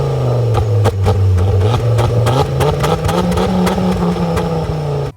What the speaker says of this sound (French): On retrouve 2 énormes pots d'échappement qui chantent vraiment très très bien.